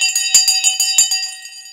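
A bell rings in a steady electric clang, marking the market open during live stock market coverage, with sustained bright tones and repeated strikes throughout, fairly loud and alone.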